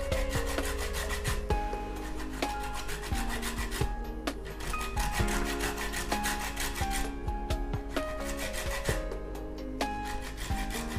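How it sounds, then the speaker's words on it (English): Steady, continuous rasping strokes of a zester scraping lemon peel for a marinade, close and even, with a musical tone running beneath the scraping and no talking. "Zest of one lemon."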